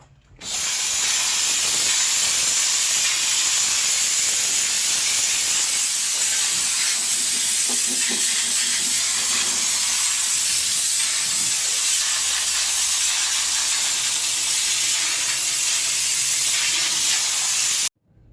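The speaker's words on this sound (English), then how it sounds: "We're going to get ready to shoot our second coat and see what it looks like when it's done." A spray gun lays a second coat of Lizard Skin coating onto a 1968 Camaro, producing a loud, steady, unbroken airy hiss. It lasts about seventeen seconds, then cuts off abruptly.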